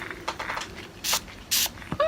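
Two sharp hissing bursts from a leave-in conditioner spray bottle, each about a fifth of a second, close to the mic after a few quieter sounds of handling.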